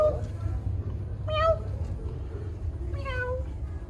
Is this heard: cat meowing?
yes